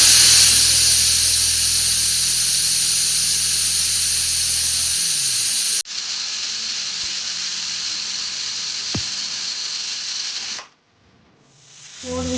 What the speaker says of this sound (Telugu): విజిల్స్ అయితే వచ్చేసి ఇప్పుడు మనం స్టవ్ ఆఫ్ చేస్తున్నాము